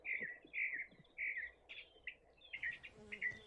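Small birds chirp in quick, repeated bright calls, fairly close, with a faint hum in the background.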